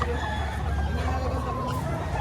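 A rooster and other chickens at a poultry market in Lipa, Batangas, birds brought from San Pablo, Laguna, giving drawn-out crowing and clucking calls over a busy crowd hubbub, with people talking nearby.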